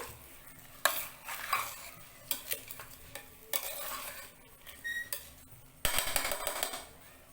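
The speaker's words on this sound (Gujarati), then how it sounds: "અને આપણે ભાતને એટલે કે ચોખાને 2 મિનિટ માટે આપણે આવી રીતે ઘીમાં સાતળીશું." Rice being sautéed in ghee for a pressure-cooker matar pulao, with bursts of stirring and scraping in the pan and a soft sizzle between them, close by and with no talk.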